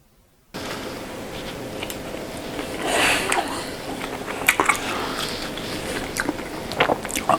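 Someone eats a baked potato from the air fryer, topped with melted cheddar, sour cream and chopped onions, with soft close biting and chewing sounds over steady background noise and a few sharper squishy bites toward the end.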